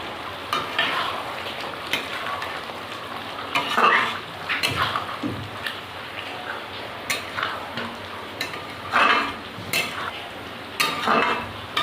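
Pointed gourd being stirred in a sizzling yogurt gravy after garam masala goes in, a steady frying hiss broken by scraping utensil strokes against the pan, with no talking.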